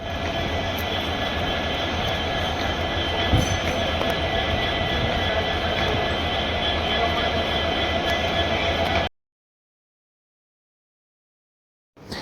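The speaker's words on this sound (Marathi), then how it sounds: "तर काही फायनली आलेली आहे ट्रेन" A train pulls into an Indian railway station, a steady loud rumble of wheels and carriages lasting several seconds, then cutting to near silence before a brief return of noise at the end.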